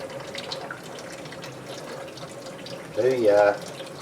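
Tap water runs briefly to rinse hog casings for homemade beer bratwurst, a short louder splashing burst near the end over steady background noise.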